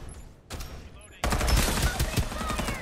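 Rapid automatic gunfire from Farlight 84 gameplay, starting faintly and then erupting loud and sustained in dense bursts after about a second, with no talk over it.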